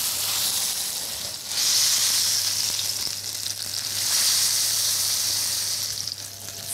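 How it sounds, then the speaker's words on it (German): A roast sears in hot clarified butter with a loud, steady sizzle and crackle. The sound swells as the meat is turned and settles in the pan, heard close up with no voices. "So, wenn das jetzt schön heiß ist, dann kommt mein Braten da jetzt einer und wird rundherum scharf anbraten."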